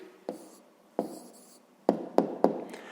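Pen strokes on paper as a maths answer is written by hand, five or six distinct scratchy taps and short scrawls, close and quiet, with pauses between them.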